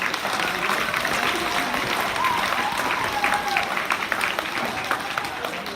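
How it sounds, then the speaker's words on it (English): Steady applause from a school audience at a Black History program, honoring a guest soloist, with a continuous wash of clapping and crowd murmur running throughout. "Let's give another round of applause to our guest soloist"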